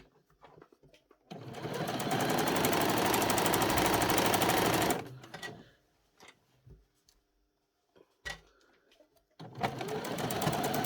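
A sewing machine stitches the waistband of jogging bottoms: a steady, fast mechanical whir and chatter runs for about four seconds, then after a pause with a brief single stitch burst the machine starts up again, close and loud.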